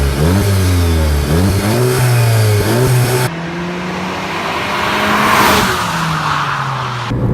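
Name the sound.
car engine revving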